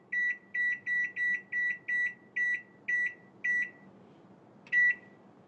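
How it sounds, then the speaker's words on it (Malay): A microwave oven beeps as it is set, nine short even electronic tones in a quick run, then a pause and one final beep, with no talk. "So kita akan masukkan dalam microwave."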